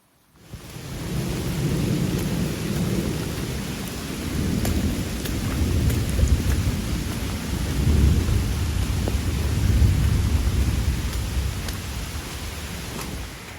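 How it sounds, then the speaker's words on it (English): Steady heavy rain pours throughout, heard from a trail shelter on the Appalachian Trail in Vermont, with a low rumble of thunder rolling underneath and no voices. "Took refuge in the shelter while it was raining over lunch."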